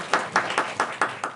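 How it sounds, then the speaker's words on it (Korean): Six steady claps ring out close by at a seminar event, evenly spaced and crisp, with no voices over them. "큰 박수 부탁드립니다."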